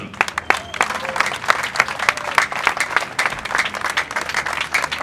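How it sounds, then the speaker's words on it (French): Standing crowd at a funeral applauding a departed comedian and artist, with dense sustained clapping from many hands, loud and close, continuing steadily throughout. "que nous nous levions pour applaudir l'artiste qui s'en va, pour dire bravo l'artiste"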